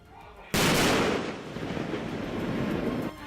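Loud blast of an artillery shell fired during an army drill, bursting in abruptly and then rolling on as a sustained broadband rumble for about two and a half seconds.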